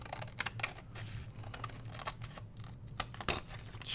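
Scissors trimming junk mail paper around the edges of an envelope, quiet irregular snips and crinkles up close, with no talk.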